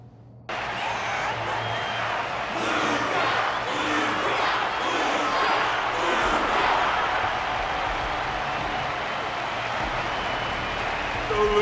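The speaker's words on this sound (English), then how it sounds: "The audience's passion stays strong. Their constant applause is a salute to this resilient Belabogian fighter." In the Honkai: Star Rail fighting-arena event, an audience keeps up continuous applause and cheering, a dense steady roar of clapping that holds at even loudness throughout.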